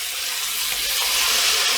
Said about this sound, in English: add the 100 ml of cold water